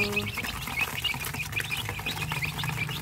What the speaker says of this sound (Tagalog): So, marami na tayong mga manok na pugo.